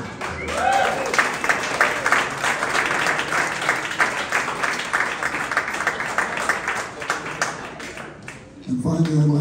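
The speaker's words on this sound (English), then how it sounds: "please give yourselves a big round of applause" A live audience at an evening event breaks into a big round of applause, dense sustained clapping filling the room for several seconds before a voice resumes near the end.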